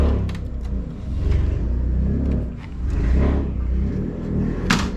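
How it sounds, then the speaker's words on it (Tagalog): A truck passes outside while a printer is being unboxed indoors, making a steady low rumble and engine drone that swells and fades over several seconds. A brief knock or click is heard near the end. "May truck din sa labas."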